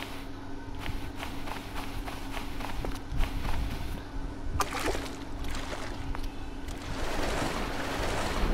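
Ocean water washing steadily in the survival game Sealter, a continuous broadband surf wash with faint splashes and movement sounds, no talking.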